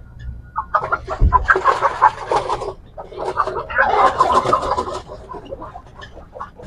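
A hen clucks in agitated bursts, close and fairly loud, with two longer flurries of squawking separated by short pauses.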